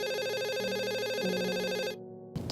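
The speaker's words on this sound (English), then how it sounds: "The phone rang" An electronic telephone ring sounds as a steady, buzzy warbling tone for about two seconds, then cuts off, followed by a short click, alone with no voices.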